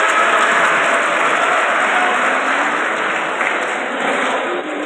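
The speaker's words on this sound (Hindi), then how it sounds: "जोरदार तालियां हो।" Strong, steady applause from a gathered audience at a career counselling event held at a college, dense and even throughout, with a high hissy hum lying beneath the clapping.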